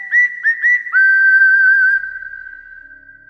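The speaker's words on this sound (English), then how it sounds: "Let's get that strikeout whistle." Strikeout whistle sound effect during a Yankees–Mets baseball game: three short rising chirps followed by one long sustained steady whistle tone, loud and alone, fading out at the end.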